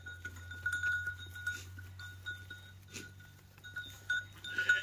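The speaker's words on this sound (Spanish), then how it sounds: "Vamos a encerrar la oveja" A sheep bleats faintly while being penned, with livestock bells clinking intermittently over a low, steady hum; no one speaks.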